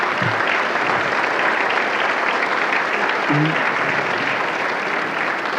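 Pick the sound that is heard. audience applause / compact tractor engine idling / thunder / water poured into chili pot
audience applause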